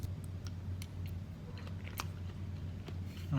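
A bite of homemade potato casserole chewed close to the microphone, giving soft wet mouth sounds and several faint crunchy clicks over a low steady background hum, with no talking.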